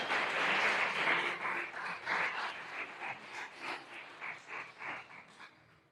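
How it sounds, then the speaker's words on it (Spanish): A church congregation applauds together, a dense wash of clapping that holds steady and then fades away over several seconds, with no voices over it. "Démosle un aplauso al Señor."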